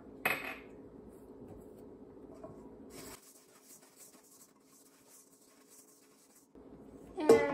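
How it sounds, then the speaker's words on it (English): Bread dough bowl being oiled by hand, quiet clinks of utensils against the bowl at the start and end, with soft faint rubbing in between. "So let's get the bowl oiled."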